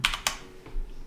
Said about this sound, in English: So we will type in here